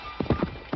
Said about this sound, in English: the knight stays on his horse and keeps on riding.